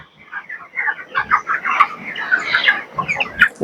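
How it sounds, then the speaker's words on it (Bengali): Several 26-day-old broiler chickens cluck and chatter close by in quick, uneven bursts, with no one speaking over them. "এরপর আমরা ওই সাইড থেকে আরো 5টা মুরগি নিব।"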